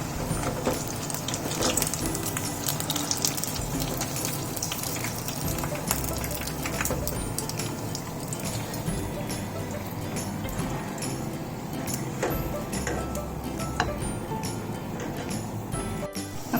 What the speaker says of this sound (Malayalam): അപ്പോൾ നമ്മുടെ പക്കോടയുടെ ലാസ്റ്റ് സെറ്റ് ഫ്രൈ ആയിക്കൊണ്ടിരിക്കുവാണ്